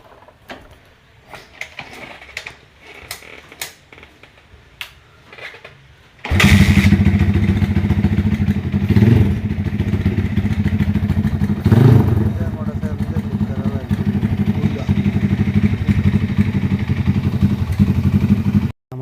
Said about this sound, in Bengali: নিজের মোটরসাইকেল নিজে ঠিক করে লয় কেউ দ্বারা নেওয়া লাগে না